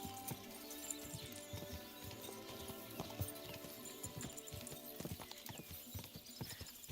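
Horse hooves clip-clopping at a quick, rolling gallop across ground in Kingdom Come: Deliverance 2, a steady rhythmic pounding with occasional snorts, fairly quiet with no talk over it.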